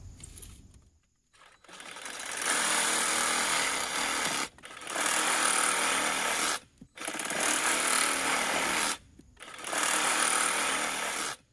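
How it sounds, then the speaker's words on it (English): A power tool cuts 15-inch pieces for raised bed row cover hoops in four loud, close, sustained bursts of harsh buzzing, separated by brief silent pauses. "I'm going to cut 15-inch pieces"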